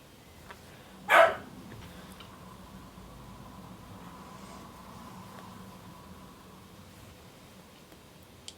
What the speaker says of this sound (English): He'll be barking at something in the kitchen.